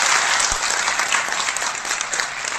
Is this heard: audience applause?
yes